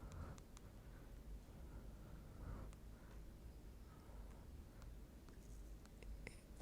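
Pen or marker scratching steadily across a surface while a math proof by contradiction is written out, a continuous quiet scritching with small taps and strokes, close and faint, with no talking.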